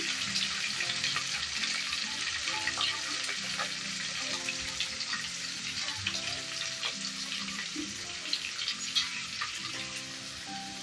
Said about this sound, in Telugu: ఆనియన్స్ కూడా రెండు కలిపి మిక్స్ అయిపోతే తొందరగా ఫ్రై అవుతాయి